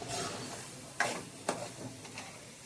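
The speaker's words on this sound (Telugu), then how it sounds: "చేప ముక్కలు వేసి కొంచెం కలుపుకొని చేప ముక్కలు కూడా వేసేసి బాగా కలుపుకోండి" Fish pieces are stirred into a simmering curry, with soft scraping and a couple of sharp spoon knocks against the pot over a quiet background sizzle.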